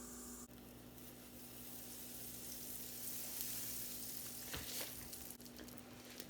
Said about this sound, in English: I'm just going to take some butter and I'm just going to kind of slather this griddle with butter.